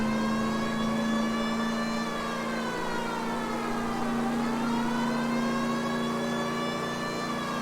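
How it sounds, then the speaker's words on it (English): A steady, droning police car siren in the L.A. Noire video game, resembling an air raid siren, holds a sustained tone with a slight dip midway, loud and continuous with no talking. "This thing almost sounds like an air raid siren."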